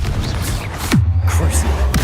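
A Confringo fire-blast spell fires in Hogwarts Legacy: a whooshing burst that falls into a deep booming impact, followed by a rumbling low drone and a crackle of flame, loud and close.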